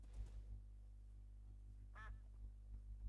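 One brief, clear quack from a duck in modded Minecraft rises over a steady low drone and soft rhythmic thumps.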